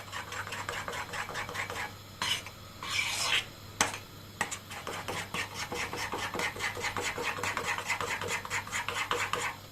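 Quick rhythmic whisking of an egg and yogurt liaison with salt for Turkish ayran soup: a close, steady scraping clatter of a whisk against a bowl, with a faint hum underneath.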